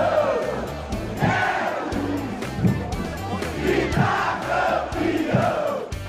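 Vila Nova supporters packing a stadium for a Série B derby against Goiás, fireworks and lights overhead, roar in loud, rhythmic waves of chanting and cheering that carry on without a break.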